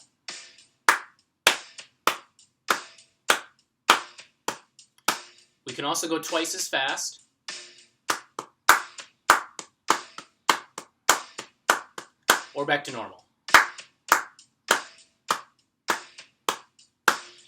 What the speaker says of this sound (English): we're just going to practice clapping on each beat